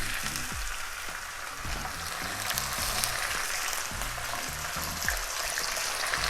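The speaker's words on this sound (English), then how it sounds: "that sizzle of bacon and that aroma it gives off" Five rashers of back bacon fry in olive oil in a pan on medium heat, giving a steady, close sizzle with dense crackling and popping that lasts throughout, with no talking.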